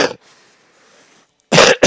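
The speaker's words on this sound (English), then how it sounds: "Man, that cough's getting bad." A cough at the start, then a near-silent pause, then two loud, harsh coughs close to the listener.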